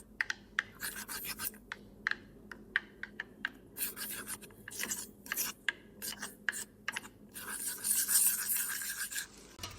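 Spice powders and cornflour being stirred into potatoes for crispy Potato 65, heard as close, rapid scraping and rubbing strokes against a bowl that build into a denser scratching burst near the end.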